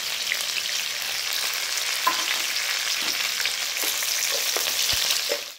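Curry leaves fry in hot oil in a pan for a South Indian dish, a steady close sizzle and crackle with a few sharp pops and light stirring clicks before it cuts off.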